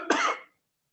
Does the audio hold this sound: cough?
yes